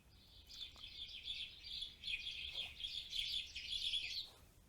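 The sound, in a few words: house sparrow chirping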